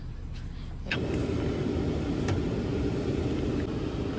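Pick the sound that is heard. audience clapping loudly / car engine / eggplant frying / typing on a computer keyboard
car engine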